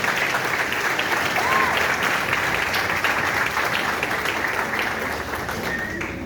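A church congregation applauds its pastor with steady, full clapping that fills the room and carries on evenly throughout, fading slightly at the end.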